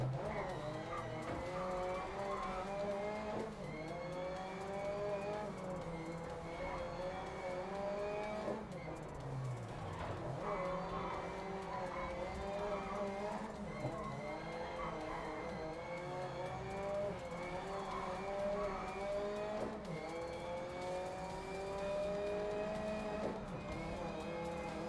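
An Audi race car in the GRID Legends video game drives continuously, its engine droning and shifting pitch as it accelerates, with tyres squealing through the corners. The sound is loud and steady for the whole stretch, with no talk over it.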